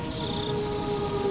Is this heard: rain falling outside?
yes